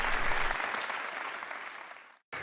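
Audience applause at a stand-up comedy show, dense clapping that is loud at first, gradually thins and fades, then breaks off abruptly.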